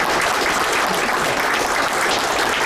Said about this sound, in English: So I don't know if we could give them a round of applause.